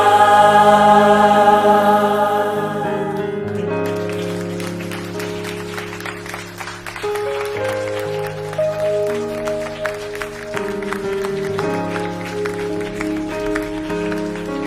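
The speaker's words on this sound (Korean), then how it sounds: "우리 더 큰 박수 주님께 올려드립시다" A church congregation at a dawn worship service claps along with sustained music, the steady applause blending with held chords and continuing loudly throughout.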